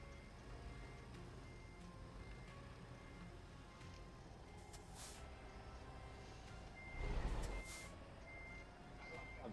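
A delivery truck reverses with a low, continuous engine rumble and faint beeping, while a louder surge and jolt swells near the end as the throttle is briefly goosed; no clear talking.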